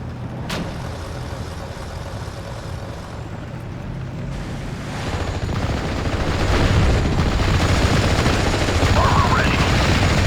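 Gunfire and artillery rumble through a WWII video game battle, with a sharp early shot and then dense, overlapping bursts that thicken and grow louder toward the end, while voices sound faintly underneath.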